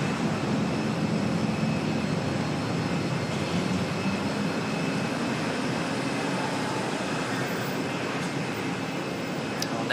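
The aircraft of flight NZ998 to Apia at Auckland Airport, heard as a steady broadband jet roar, fairly distant and constant throughout with no talk.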